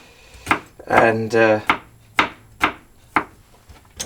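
Garlic being chopped with a knife on a board for homemade French onion soup: about six sharp, evenly spaced chops, close and fairly loud, with a brief spoken word partway through.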